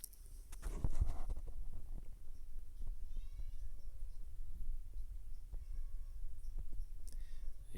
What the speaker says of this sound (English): You can probably hear the cat wanting to come in.